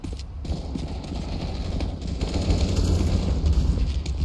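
Rapid gunfire from an online multiplayer shooter in Pain Premium Edition, dense bursts of shots over a heavy low rumble, loud and continuous throughout.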